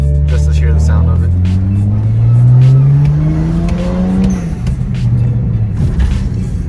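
A BMW fitted with a catless downpipe and blow-off valve revs hard up through a rising engine note, then drops off with a rougher settling sound, loud and close with some talk in the background.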